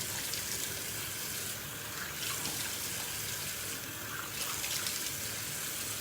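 Tap water runs steadily into a bathroom sink while a face is rinsed, a continuous close hiss with faint splashing swells.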